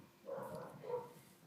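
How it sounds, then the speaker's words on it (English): Faint, distant barking comes twice in short bursts, muffled as if from another room. "I'm sorry about the barking, my dog's pretty loud."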